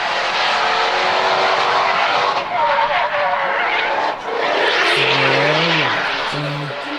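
A drift car making an RDS GP qualifying run close to the wall, with a loud sustained tire squeal and screech mixed with engine roar that rises and falls as the revs change near the end.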